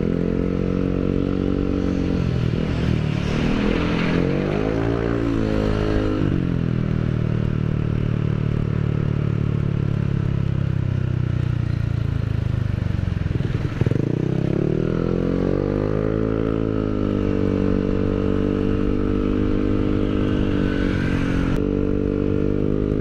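A Yamaha Aerox 155 scooter fitted with a new aftermarket exhaust drones loudly and steadily for a long stretch, its engine note rising and falling as the rider revs and eases off, with no talking.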